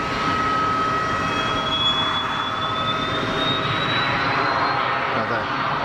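A Pilatus PC-24 business jet departs Geneva Airport with a steady, powerful roar and a high turbine whine that slowly climbs in pitch, heard from a fair distance, with faint voices nearby.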